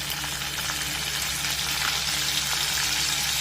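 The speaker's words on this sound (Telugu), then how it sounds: "ఆయిల్ హీట్ అయిందండి. ఇందులో మెంతి కూర, కరివేపాకు కలిపి వేసేసుకుంటున్నాం." Fenugreek leaves and curry leaves hit hot oil in a pan, giving a steady, close, loud crackling sizzle that holds without a break, with no voices.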